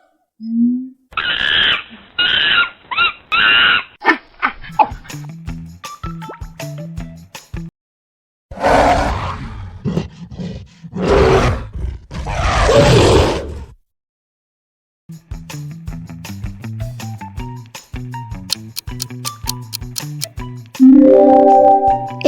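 A gorilla roars in a guess-the-animal sound game. Several loud, rough, breathy bursts come in the middle, surrounded by shorter voiced grunts and calls, with a brief silent gap partway through.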